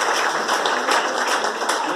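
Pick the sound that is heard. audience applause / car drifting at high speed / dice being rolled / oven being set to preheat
audience applause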